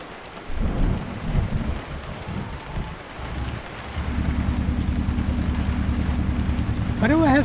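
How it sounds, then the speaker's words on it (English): Heavy rain drums steadily on a truck's windshield in a long-haul driving video game, with deep rolling thunder rumbling loud and close underneath, swelling stronger partway through. "Why do I have so much rain?"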